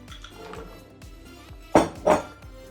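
Chocolate pieces tipped into gooey brownie batter in a mixing bowl give two sharp, close clinks and clatters against the bowl, separated by a short pause, over quiet kitchen background.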